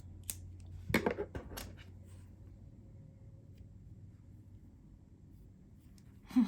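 Scissors snip brown crochet yarn close by, a quick cluster of small crisp cuts, then quiet until a soft knock at the end.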